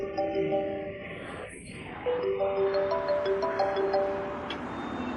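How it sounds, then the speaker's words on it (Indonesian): A mobile phone ringtone plays as a steady melodic tone pattern, pausing briefly midway and then resuming, heard fairly clearly in an indoor scene with faint background noise. "HP-nya bunyi."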